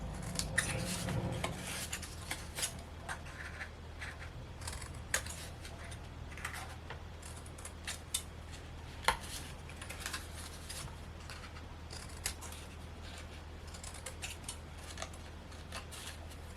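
Paper being bevel-cut for a handmade Easter box, with a run of small crisp snips and clicks scattered over a steady low hum, close and fairly quiet.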